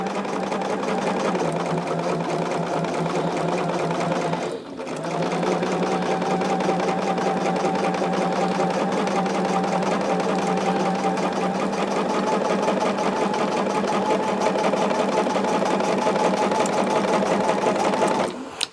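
A sewing machine runs continuously while stitching top and bottom quilt sashings, a steady rapid mechanical whir and clatter with one short pause before it resumes at an even pace.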